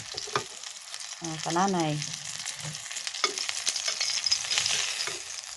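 Freshly caught fish fries in a pan, a soft steady sizzle and crackle with occasional stirring clatter, as a voice briefly speaks over it.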